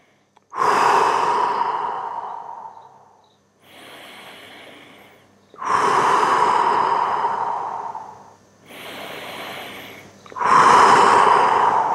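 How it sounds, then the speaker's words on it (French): Slow, deep breathing in a guided relaxation exercise: three long, loud exhales, each trailing off gradually, alternate with quieter inhales in a steady rhythm, close to the microphone. "on dégonfle le thorax et on dégonfle le ventre"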